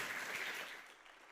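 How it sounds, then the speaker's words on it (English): Audience applause at an AI startup demo day, a steady wash of clapping that fades toward the end of the short burst. "Big applause for Istari AI."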